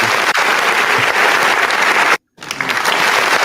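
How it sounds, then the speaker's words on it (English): A canned applause sound effect fired from an applause button gives a loud, dense burst of clapping that breaks off briefly and then resumes, with no voices over it. "Y'all know I like that applause button, don't you?"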